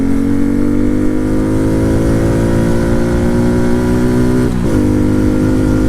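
A small motorcycle, passed near a Z125, holds at full throttle with a loud, steady engine drone, the pitch dipping briefly as if shifting gears before settling again.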